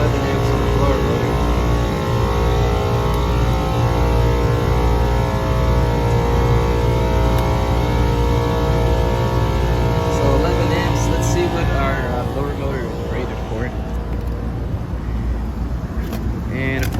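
An HVAC unit's blower motor runs steadily and loud throughout during a no-cooling service call, a constant hum with tonal bands, with a voice talking over it.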